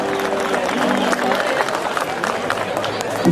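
Crowd noise with steady clapping from an audience at a live polka and chamamé festival, continuous and fairly loud throughout, with general hubbub mixed in.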